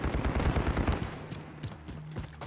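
Rapid automatic gunfire in Call of Duty (2022), a dense rattle of shots up close that thins into scattered, separated bursts over a low rumbling background.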